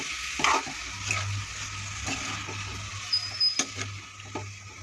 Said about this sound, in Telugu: ఇప్పుడు టమాటాలు వేసుకుందాం మనకి కర్రీ ఎక్కువ కావాలని టమాటాలు ఎక్కువ వేసానండి గ్రేవీ కోసం